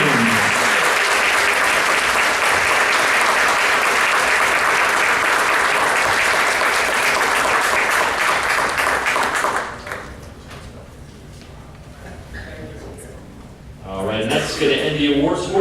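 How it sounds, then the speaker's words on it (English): Loud, dense applause fills the hall at an all-sports banquet as the audience claps for the senior Trojans, then cuts off abruptly to quieter room noise before a fresh burst of clapping begins near the end. "big round of applause for your senior"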